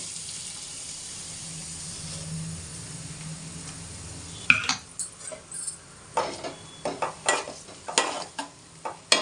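Sliced onions frying for mutton gongura, with a low sizzle first, then a spoon or spatula scraping and clanking in the pan in quick irregular strokes, close and clear.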